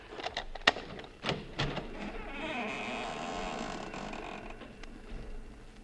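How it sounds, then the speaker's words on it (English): A front door swings open on a creaking hinge, a drawn-out squeak with a few sharp knocks and clicks at the start, then a steady, moderately loud rasp that fades after about five seconds. "Maybe you heard the hinge squeak a little."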